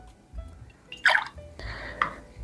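Coffee liqueur, 25 ml, poured for a cocktail: two short, close liquid splashes about a second apart over a quiet room.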